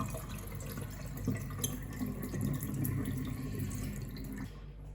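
A kitchen mixer tap runs cold water with a steady, close hiss of water splashing into a sink, continuous and fairly quiet throughout.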